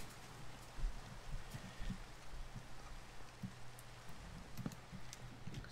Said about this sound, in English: Oh, it's raining. Of course it's raining.